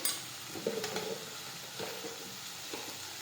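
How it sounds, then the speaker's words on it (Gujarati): Cumin, chutney and turmeric going into oil with cooked fenugreek greens make a soft, fairly quiet sizzle, broken by a few spoon scrapes and knocks against the pan. "જીરું નાખીશું, ચટણી નાખીશું, હળદર નાખીશું"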